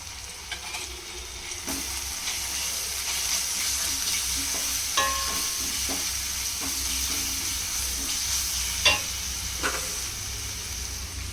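Mutton keema sizzles and fries in a pan with ginger garlic paste and turmeric, a steady close hiss broken by occasional stirring scrapes and clicks, with no talk.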